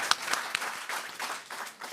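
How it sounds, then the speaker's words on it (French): Audience applause following a lecture and question session: a brief burst of steady clapping from a seated crowd, moderately close, with no talk over it. "Oui, on va déjà vous applaudir."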